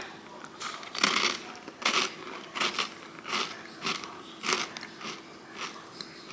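Someone bites and chews small crunchy almond cookies, giving a regular series of close, crisp crunches about once every half second to second over a low background hum.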